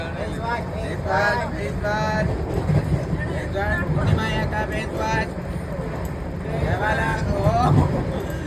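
A passenger train runs toward Nizamuddin near Palwal station with a steady, close rumble and rattle throughout, while people talk over it.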